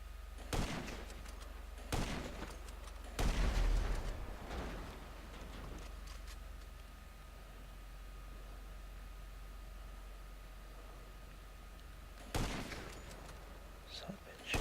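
Sniper rifle shots from GTA Online ring out as single loud cracks spaced a few seconds apart, over a steady hiss of game noise.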